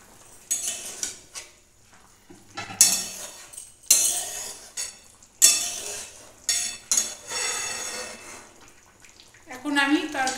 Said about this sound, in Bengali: এখন আমি ঢাকাটা খুলে দিচ্ছি